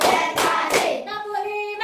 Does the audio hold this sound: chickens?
no